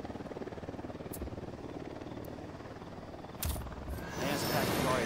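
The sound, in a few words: helicopter flying low in Ghost Recon Wildlands, video game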